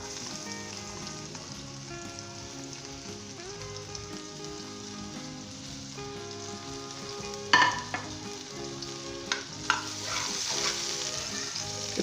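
Chopped garlic and ginger frying in hot oil with already-fried onions for achari pulao, a steady close sizzle with a few stirring clatters near the end.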